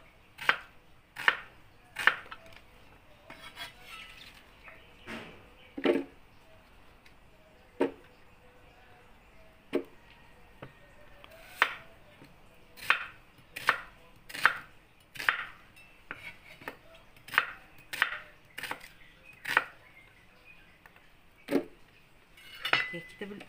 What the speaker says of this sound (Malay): Cili kering, kemudian kita potong bawang.